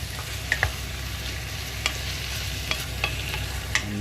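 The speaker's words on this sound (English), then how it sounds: "you can hear the sizzling, so you've got to keep stirring it" Meat and bacon sizzle steadily in a pan, a constant close hiss broken by occasional sharp scrapes and clicks of a utensil stirring, with no talking.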